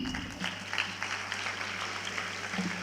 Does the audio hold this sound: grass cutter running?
no